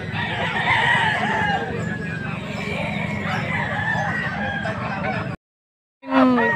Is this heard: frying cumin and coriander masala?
no